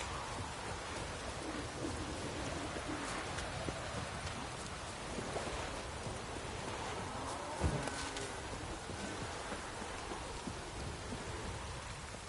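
Steady heavy rain from a Witcher 3 video game, a dense continuous wash that fills the whole stretch, with a faint low rumble of distant thunder near the middle.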